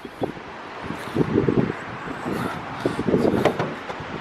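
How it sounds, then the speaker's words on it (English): Wind buffets the microphone in steady, rumbling gusts, with a few louder bursts rising and falling outdoors. "it's super windy today"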